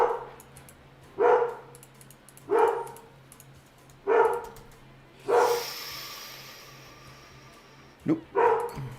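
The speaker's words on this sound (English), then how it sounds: "I don't know if you can hear that barking." A dog barks loudly nearby in repeated single barks about every one to two seconds, with a low steady hum underneath and a brief rustling noise partway through.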